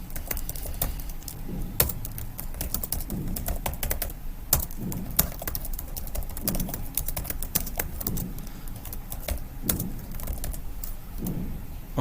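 Keys clatter steadily on a computer keyboard while entering data into a Microsoft Excel 2019 spreadsheet, a fairly quick, uneven run of close, crisp clicks lasting the whole stretch with no voices.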